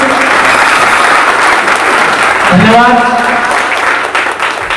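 Loud, sustained applause from an audience at a Reservation Day event after a speech, many hands clapping close by while a voice briefly speaks over the middle, the clapping thinning slightly toward the end.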